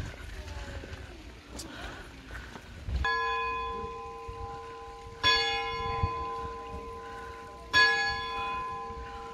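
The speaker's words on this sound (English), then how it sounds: "Well, the church bells are going." Church bells ring in a Black Forest town, three clear resonant strikes spaced a couple of seconds apart, each leaving a long ringing decay over faint street noise.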